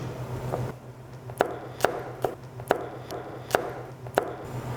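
A knife chops vegetables on a cutting board in a kitchen where spicy braised pork ribs are being made. Six or seven crisp, evenly spaced knocks sound close by over a soft background hum, without talking.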